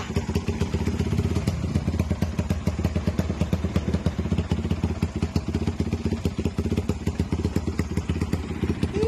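A 400cc Raider motorcycle engine runs steadily at idle nearby on its first start, with a rapid, even thumping putter throughout and no talking.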